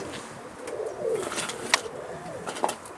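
Pigeons cooing softly near a loft after being released, a few low coos with a couple of sharp flutters or wing claps, faint and close.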